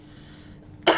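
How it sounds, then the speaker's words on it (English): Quiet background hush, then a single short, sharp cough bursts out at the very end. "You know, I keep coughing."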